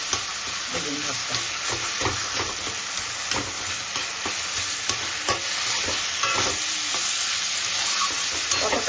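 Mashed eggplant stirred and frying in a pan, with steady close sizzling and repeated scraping stir strokes throughout, no voices.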